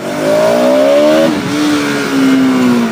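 Bajaj Pulsar 200 NS motorcycle engine revving up close, a loud droning engine note that rises, dips briefly and then climbs again over about three seconds.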